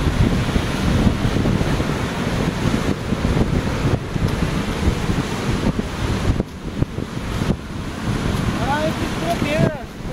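Rough surf crashes continuously with heavy wind buffeting the microphone, a loud, churning roar of waves with no clear pauses, at the Bel Air hotel ruins in Xpu-Ha, Mexico.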